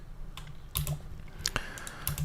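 Several quick taps on a computer keyboard, pressing backspace while editing an interior environment in Unreal Engine 4, close and crisp, with irregular clicks and no speech.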